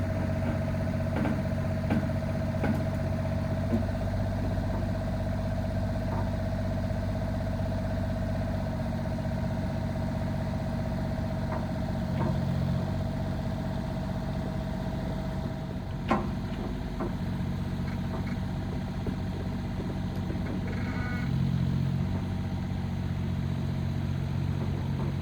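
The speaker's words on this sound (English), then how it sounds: "managed to get the cherry picker working" A cherry picker's engine idles steadily at a French chateau, a constant low rumble with a faint whine on top that runs unchanged throughout, with a few small clunks and no talking.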